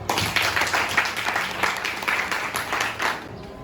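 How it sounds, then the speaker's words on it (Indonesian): Students in an Islamic studies classroom clap together, a dense, moderately loud patter of hands with a loose pulsing rhythm throughout. "Baik, tepuk tangan semua."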